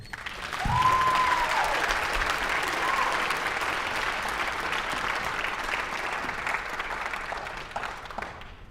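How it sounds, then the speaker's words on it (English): An audience claps steadily at a school band winter concert, a broad even wash of applause that swells early and tapers slightly toward the end, with a brief tonal squeal near the start. "Let's give another round of applause for both of them."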